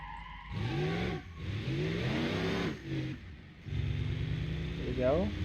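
Racing car engine with nitrous in the Automation video game, a 1992 DTM-style car, revving in rising sweeps, dipping between gear changes, then holding a steady loud drone before a final climbing rev.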